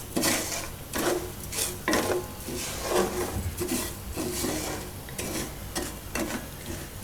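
Sugar melting in a hot kadai for caramel popcorn is stirred with scraping, rubbing strokes in an irregular rhythm, close and moderately quiet over a faint sizzle.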